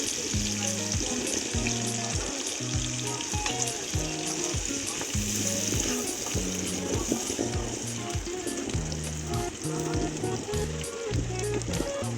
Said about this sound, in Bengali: তেলের ভিতরে পেঁয়াজ আর রসুনগুলো দিয়ে দেব।